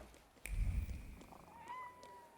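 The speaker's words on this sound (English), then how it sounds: "Is that meowing I hear?" A cat in a video game meows in a few drawn-out, rising cries over a soft background hum, with no talking.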